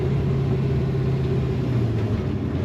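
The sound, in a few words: 1967 Pontiac Firebird engine while downshifting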